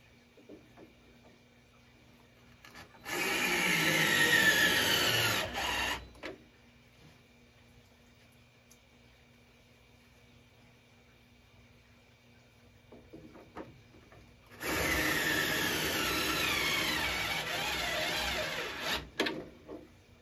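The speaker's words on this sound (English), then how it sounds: "I'm going to use this drill where I can straighten it out to try to make it in there" Two bursts of a power drill whirring as it drives a screw during an arcade cabinet restoration, each about three seconds long, separated by a quiet pause.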